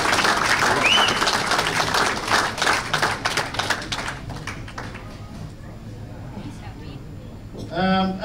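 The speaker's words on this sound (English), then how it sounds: "give him a round of applause from us" Audience applause for a presenter at an 8-ball pool titles presentation night, a steady patter of many hands clapping in a room that gradually thins out, with a brief burst of talk and a clatter near the end.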